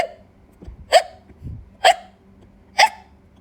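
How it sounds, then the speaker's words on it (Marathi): Three sharp, evenly spaced hiccups ring out close and loud over a quiet background, each a short voiced gulp about a second apart, with no speech around them. "मला ढेकर कमी उचक्या जास्त लागत आहेत"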